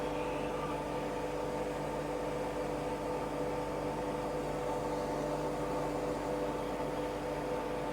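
A carbide cutter grinder runs steadily at close range, its motor giving a constant tonal hum with a bed of broadband hiss, unbroken and with no voices.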